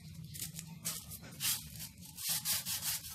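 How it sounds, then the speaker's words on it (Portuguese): Sandpaper rubbing over a dirty PVC sewer pipe to clean it, heard as steady back-and-forth scratchy strokes, close and moderately loud with no talking. "Vou dar uma limpada, uma lixadinha nele."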